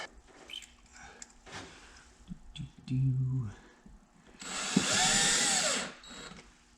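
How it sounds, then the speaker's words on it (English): A power drill drives sheetrock screws during a pellet stove install, with two short whirring bursts, the second longer and louder, amid scattered handling clatter and faint voices. "Now I'll just drop a few sheetrock screws in there from this side in the holes."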